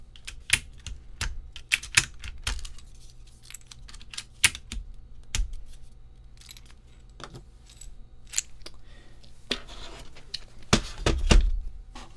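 Typing on a keyboard built with SW Coco Black switches on a polypropylene plate: close, crisp clacks arriving in irregular bursts and single strokes, with quiet gaps between runs.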